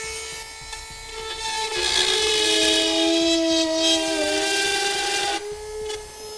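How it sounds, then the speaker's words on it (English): A rotary tool cuts through a plastic bumper cover tab on a 2015 GMC Terrain, a steady high whine with shifting pitch that runs loud and close for several seconds before cutting off. "So we're going to take a rotary tool. We're going to cut it."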